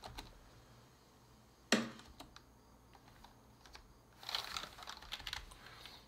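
Computer keyboard typing during video editing in LumaFusion on an iPad running iPadOS 13: a few quiet, scattered key clicks, then a denser burst of tapping near the end, with no talking.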